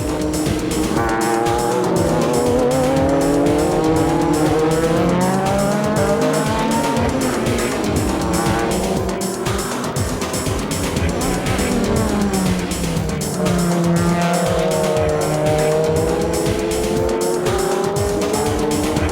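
Onboard an Esso Toyota Supra GT race car in the JGTC series, the engine screams loudly and continuously, with revs sweeping up and down through gear changes and cornering and brief tyre squeal.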